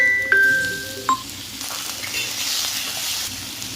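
Mustard seeds, chana dal and onion frying in hot oil in a kadai make a soft, steady sizzle and crackle, with a couple of brief ringing tones and clinks near the start.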